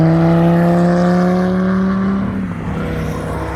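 Chevrolet Corvette C7 passing on a race track during a muscle car track day, its steady engine drone loud and close before easing slightly as it goes by.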